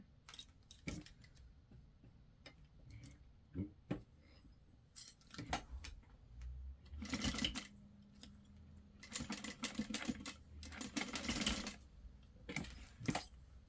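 A sewing machine topstitches a folded fabric zipper tab for a zip wallet in short bursts, with clicks and handling taps between the longer runs.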